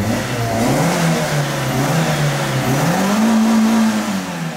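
A car engine running loudly close by, revving with a steady drone that rises and falls slightly in pitch, continuous throughout without talking.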